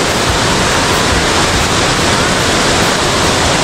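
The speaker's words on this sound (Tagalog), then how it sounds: "Ayun Falls, Bulawan Falls. Napakalakas natin." Bulawan Falls, a powerful waterfall in Dinalungan, Aurora, roars as a steady, loud, dense rush of falling water with no break, close and overwhelming.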